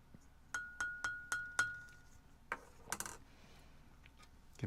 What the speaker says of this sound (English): let's give that a little stir